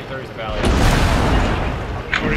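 Tank cannon fire in the World of Tanks video game, with a deep booming blast and a rumbling roll-off that fills the clip, ending in a short sharp crack.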